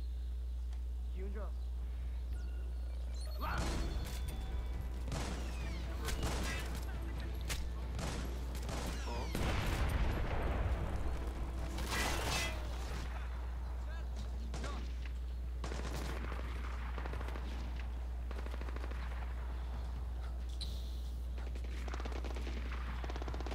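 Enemy gunfire crackles in Tom Clancy's Splinter Cell: Blacklist at a rebel fortification, scattered bursts and volleys from several shooters, mid-distance, under low background hum with someone talking now and then.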